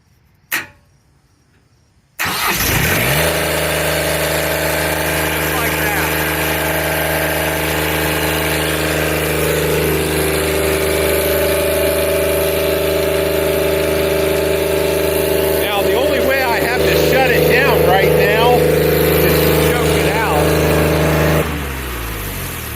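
An ETR engine, hot-wired from the main battery lead, cranks after a short click and silence, then catches and settles into a loud steady idle with strong low harmonics, with faint voices over it before it drops off near the end.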